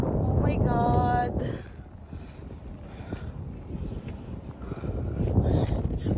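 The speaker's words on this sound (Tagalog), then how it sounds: "It's so windy." Strong wind buffets the microphone on a desert safari in Qatar, a loud roaring rush that eases off and then builds again, with a voice heard briefly.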